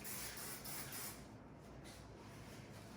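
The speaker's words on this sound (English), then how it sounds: "Okay, so I'm gonna spray it one more time." A continuous hairspray spray hisses from an aerosol can for about three seconds in a hair salon, strongest in the first second, then softer and steady.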